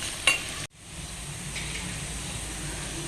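Fish curry masala sautéing in a pan for a Kerala-style curry gives a steady oily sizzle, broken by a brief clink of a spoon near the start and a short stirring scrape, then a continuous frying hiss.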